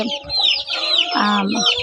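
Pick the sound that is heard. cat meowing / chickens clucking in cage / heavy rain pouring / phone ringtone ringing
chickens clucking in cage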